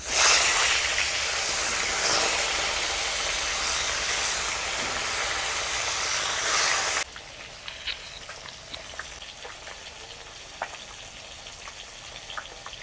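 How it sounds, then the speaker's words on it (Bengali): Bata fish frying in mustard oil in a wok, a loud, dense, steady sizzle that runs for about seven seconds before dropping abruptly to a quiet background with faint scattered crackles and clicks. "এবারে মাছগুলো ভেজে নেব।"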